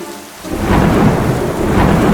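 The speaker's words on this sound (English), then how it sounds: "So, I turned off the lights and started to pour down rain." Simulated rainstorm poured over a hermit crab terrarium with the lights off, a dense, steady roar of pouring rain and rumble that swells after a quiet start and stays loud and continuous.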